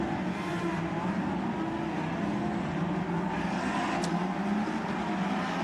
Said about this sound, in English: the noise of a packed grid of cars moving away for the North American Series rings out